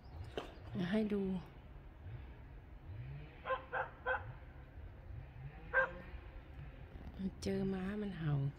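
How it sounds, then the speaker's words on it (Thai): A dog by the roadside barks at a horse in short, scattered bursts of sharp yips. Two or three clusters of barks come between stretches of quiet talk, over a faint background of passing traffic. "เจอม้ามันเห่าข้างทาง"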